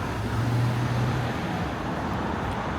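Steady roar of road traffic at a busy intersection in Toronto, with a low engine drone early on, broad continuous noise of passing vehicles, fairly loud and close.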